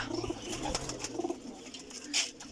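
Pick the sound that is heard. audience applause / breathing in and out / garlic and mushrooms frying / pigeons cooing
pigeons cooing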